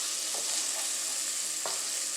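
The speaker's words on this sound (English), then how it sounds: "Make sure we cook it until the onions are translucent and the capsicum is soft. Okay, so we've got our sofrito going nicely," A sofrito of onions and capsicum sizzles steadily in a pan for a chickpea stew, with a few brief spoon scrapes breaking through the close, constant hiss.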